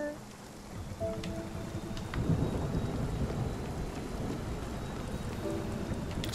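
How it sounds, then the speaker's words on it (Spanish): A thunderstorm with heavy rain in the video game Spiritfarer, a dense steady downpour with deep rolling thunder swelling in and holding loud, while a soft musical tone plays faintly under it. "Esto es lo que llamo yo una tormenta."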